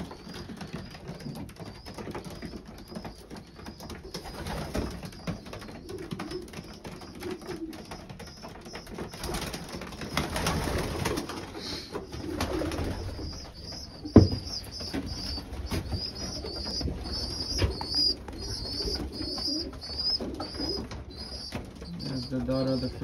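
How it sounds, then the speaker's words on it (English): Racing pigeons coo softly inside a coop of mostly white birds, with scattered fluttering, pattering and background noise over a long steady stretch, plus a brief sharp knock midway. "These are mostly Kenny white birds."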